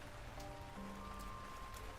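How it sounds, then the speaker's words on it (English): Steady rain patters on a surface in a horror video game, a continuous broadband hiss with faint tonal hums from the game beneath, heard alone without talk. "Ooh, rainy sound."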